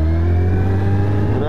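A Suzuki Hayabusa engine drones loud and close under throttle, a steady strong tone sustained without break through the whole moment.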